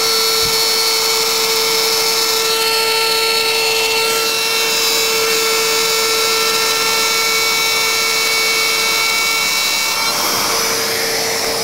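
A wood router cuts into a small wooden box piece, run with a 5 mm spacer stick, giving a loud, steady high-pitched whine that holds for most of the stretch and shifts slightly near the end.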